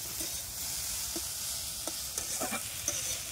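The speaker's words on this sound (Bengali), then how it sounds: "আর একটু সরষের তেল ওপর দিয়ে ছড়িয়ে দেবো, দিয়ে একবার ভালোভাবে নেড়ে চেড়ে লাগিয়ে নেব।" Greens fried with lentil nuggets and peanuts, drizzled with mustard oil, hiss and sizzle steadily up close as a spatula stirs and scrapes the pan in scattered strokes.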